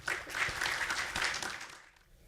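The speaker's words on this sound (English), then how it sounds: "And let's give them a round of applause" Audience applause for student entrepreneurs at a college pitch contest, a dense wash of clapping that holds steady then fades out over about two seconds.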